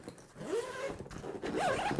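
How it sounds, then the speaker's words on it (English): The expansion zipper on an Eagle Creek Gear Warrior 65-liter wheeled duffel is pulled in two quick rasping strokes, close and fairly quiet, with no voices. "that expansion zipper is back here"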